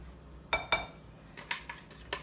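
A utensil mixes blended liquid ingredients into flour in a bowl, giving a handful of separate clinks and scrapes against the bowl with short pauses between them, close and fairly quiet with no talk.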